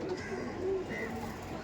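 Malbai pigeons cooing softly in a loft, low murmuring coos under someone speaking nearby.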